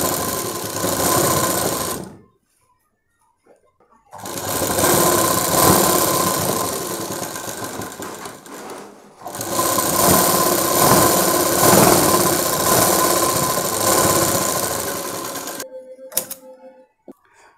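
An electric sewing machine stitches a Punjabi dress top in three long, steady whirring runs separated by pauses, close and loud, with a few small clicks near the end.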